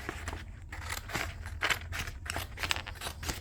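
Scissors snip through slightly sticky transfer tape in a run of close, crisp cuts, each snip a short bright crunch repeating at an uneven pace with no voices.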